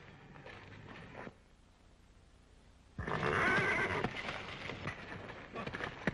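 A horse heard in a 1930s film scene, with brief noise at the start, a quiet gap, then a loud burst of whinnying and scuffling hoof movement nearby.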